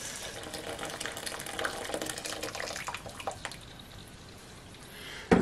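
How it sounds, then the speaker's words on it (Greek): Boiling water pours steadily into a pot of washed gigantes beans, a continuous splashing gush that lasts several seconds before easing off, ending in a brief clatter. "Θα βάλουμε και νερό. Για πιο γρήγορα βάζω βραστό."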